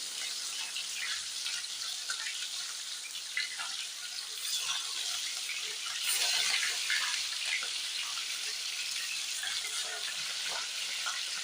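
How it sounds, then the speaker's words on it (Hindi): Fish pieces fry in hot oil for a dhaba-style fish curry, giving a steady, close hiss of crackling sizzle throughout with small pops and a brief louder surge midway, no voices. "इसमें अब हम फिश के पीसेस डालते जाएंगे और इसको अच्छे से हम फ्राई कर लेंगे"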